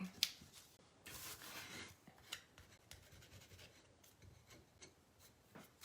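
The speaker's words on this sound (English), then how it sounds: "I'm just gonna rub that right on the edge just to make sure that ends right there" Rubbing a rub-on transfer onto the edge of a Dollar Tree heart for a craft project: soft, dry rasping strokes in close-up, fairly quiet, with a few scratchy bursts and a tap near the start.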